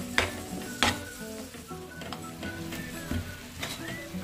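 Bottle gourd curry with milk and masala bubbles over a high flame, giving a quiet sizzle with a few clinks and stirring knocks from the pan.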